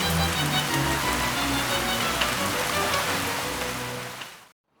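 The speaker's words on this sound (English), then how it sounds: "heavy rain brought proceedings to an end" Heavy rain pours down steadily in a dense, hissing wash at an outdoor archaeological dig, with no voices, before cutting off abruptly.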